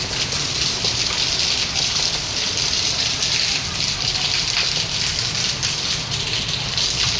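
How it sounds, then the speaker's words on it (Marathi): A waterfall gushes in heavy rain, a loud, continuous rushing of water that stays even and close from start to end. "धबधबा"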